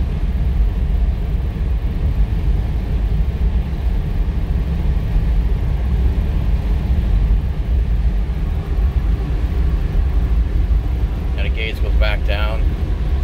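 Steady low engine rumble from a 1963 Oldsmobile Jetfire Turbo hardtop while driving at speed, a continuous interior drone with brief higher-pitched noises near the end.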